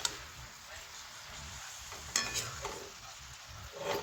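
A vegetable dish cooked with dal gets stirred after salt is added, with a faint low sizzle and a few soft scrapes and clinks of a spoon in the pan, near but quiet.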